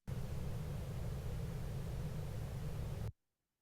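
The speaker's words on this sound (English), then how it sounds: "if you listen to the Brownian noise" Steady Brownian noise generated and low-shelf filtered in Audacity, a dense even hiss weighted heavily toward deep rumble, constant and loud for about three seconds before cutting off abruptly to silence.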